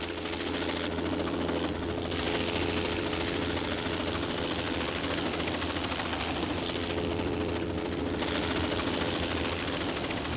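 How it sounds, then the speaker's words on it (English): Coast Guard helicopter flying in at dawn after a hurricane, its rotor and engine giving a continuous loud, pulsing chop throughout, with swells in the upper hiss as it passes close. "A Coast Guard helicopter came in"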